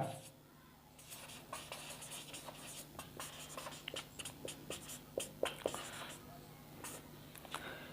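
Chalk or marker taps and scrapes on a board in quick separate strokes, writing out the words apple and orange. The strokes sound close and crisp over quiet room tone, with a soft voice murmuring faintly underneath.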